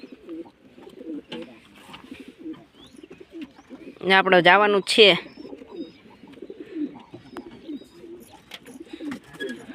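Pigeons coo softly in a loft or coop while someone talks nearby, with a louder burst of bird calls in the middle of the stretch.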